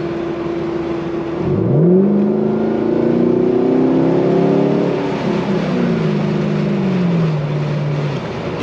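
Car exhaust roars loud and close as the engine revs up through a pull, pitch climbing steadily then easing off, with a constant rumble underneath.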